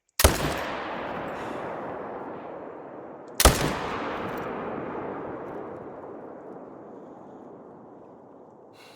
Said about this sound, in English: Must have shot too low on this guy.